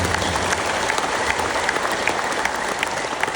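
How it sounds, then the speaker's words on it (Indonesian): Audience at a professorial inauguration ceremony in Makassar clapping together: a dense, steady wash of many hands, loud and sustained throughout with no talking over it. "Mari kita memberikan aplaus yang luar biasa kepada kita."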